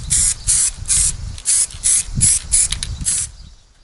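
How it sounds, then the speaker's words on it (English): An aerosol spray can applies a coat of paint in about eight quick, even bursts, each a sharp close hiss separated by brief gaps, with no voices. "spray can stuff, so I'm just about to give them another coat"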